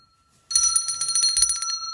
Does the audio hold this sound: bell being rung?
yes